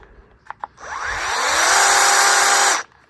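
A power tool tightening bolts at high torque gives a couple of faint clicks, then one loud, steady whining burst of about two seconds that cuts off abruptly, close by with no talking.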